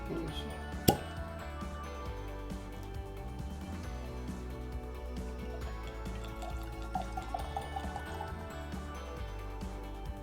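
A bottle of Knob Creek 100 proof small batch bourbon is opened with a single sharp pop. Quiet pouring and trickling of liquid follow at close range, with faint splashes toward the end.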